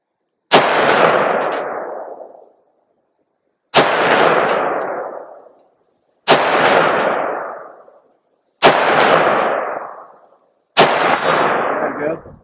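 A MARCK-15 Hydra rifle fires five single shots at a 100-yard target outdoors, each a sharp loud crack with a decaying echo, spaced roughly two to three seconds apart.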